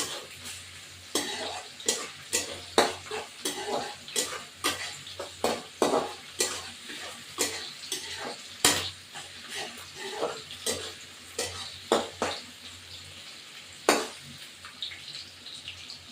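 Green chillies fry in a pan for chicken kasha, with repeated scraping and clattering stirs over a faint sizzle, close and fairly loud.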